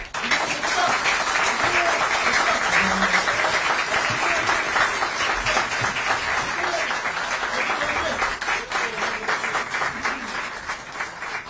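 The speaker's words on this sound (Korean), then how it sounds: "뜨거운 박수 부탁드립니다." Sustained applause from a large audience after a political party leader's inauguration speech, a dense, even roar of clapping that holds strong for about ten seconds before slowly thinning.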